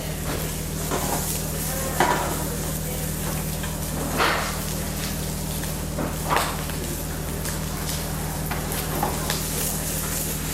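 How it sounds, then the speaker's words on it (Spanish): Pork fat sautéing in an empty frying pan to grease it before searing oysters, giving a steady close sizzle with a low constant hum beneath and a few brief stirring scrapes. "saltearla para aportarle grasa a la sartén"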